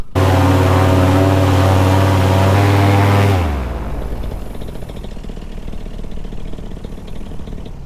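A Moster 185 paramotor engine runs loud and close after a carburetor adjustment, a strong steady drone that abruptly drops in pitch and volume around three seconds in, then idles with a slightly rough, loping beat.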